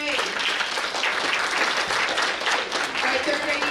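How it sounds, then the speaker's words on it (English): Steady applause from an elementary school audience at a geography bee for third graders, a dense, continuous wash of clapping at moderate level throughout, with some voices mixed in. "round of applause for our third grade"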